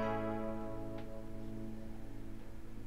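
Mellow Rhodes electric piano playing the melody's lower root notes, layered beneath a piano line in an emotional beat, with sustained harmonic chords ringing steadily throughout.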